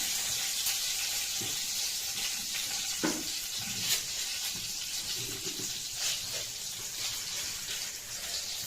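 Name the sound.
mustard seeds and curry leaves sizzling in hot oil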